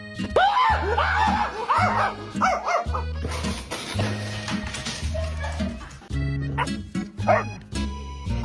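A pet dog barks and yips repeatedly in quick bursts close by, with a whimpering, almost talking quality, while a person's voice rises and falls alongside it throughout.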